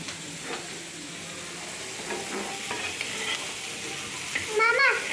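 Curry sizzles and fries in a pan while a spoon stirs it, giving a steady crackling hiss with soft clinks and scrapes, faint and close, rising briefly near the end, with no voices.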